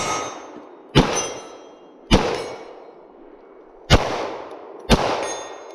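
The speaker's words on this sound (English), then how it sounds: "next is Shadow2 customized Chris's race gun." Four loud, sharp gunshots from a customized Shadow2 race pistol at a shooting competition, spaced irregularly about a second apart, each with a bright crack and a lingering ringing decay, with no talking.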